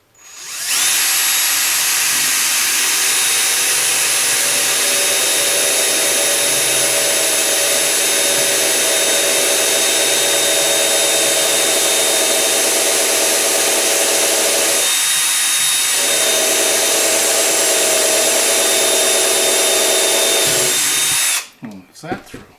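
A hand-held power drill bores a 3/32 inch hole for a homemade N scale track cleaning car, a steady loud whine running continuously for about twenty seconds with a brief dip in pitch midway, then stopping.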